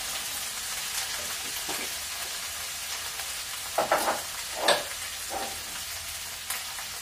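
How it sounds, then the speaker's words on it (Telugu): Broad beans fry in oil with ginger-garlic paste, a soft continuous sizzle with several louder bursts of stirring and scraping in the pan midway, fairly close and without talking. "నేను ఒట్టి చిక్కుడుకాయ ఫ్రై చేస్తున్నాను."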